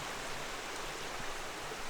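A creek flowing through woodland with older western red cedars, giving off a soft, steady, even rush of water, faint and uninterrupted throughout.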